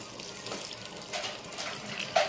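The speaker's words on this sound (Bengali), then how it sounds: "বেসিনে জল দিয়ে ফুলগুলোকে আমি ধুয়ে নিচ্ছি" Tap water running into a basin while jujube fruits are rinsed, a soft steady splash with a few louder surges and a faint clink near the end, fairly quiet and close.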